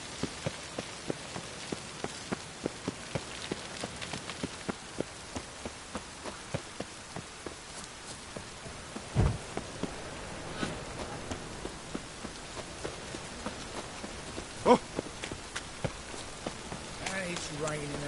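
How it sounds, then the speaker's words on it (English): Steady rain patters on a surface with scattered drips and taps, a continuous soft hiss throughout, in the video game The Witcher 3. "It's raining again."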